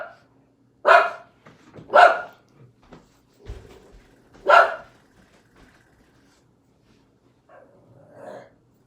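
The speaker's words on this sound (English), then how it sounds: "Got some barking dogs." Three sharp barks ring out about a second apart, then a fourth after a pause, distant-sounding from dogs outside, with a faint whine or yip near the end and little else.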